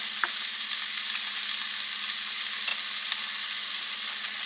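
Food sizzles steadily in hot oil in a pan while being stirred during preparation of Mexican dishes from leftovers, a constant close crackle with occasional small scrape accents and no talking.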